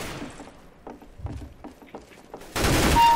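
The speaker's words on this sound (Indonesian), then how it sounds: "Ih, ada yang nembakin gua." Gunfire in the video game Counter-Strike: Global Offensive, a run of rapid shots in a quick rhythm that ends in a loud, sustained burst of noise.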